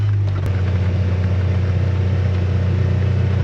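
A Ranger XD 1500 side-by-side fitted with an EVP exhaust, driving at low speed: a steady, deep engine rumble holds constant and close throughout, with a brief burst at the start and no talk.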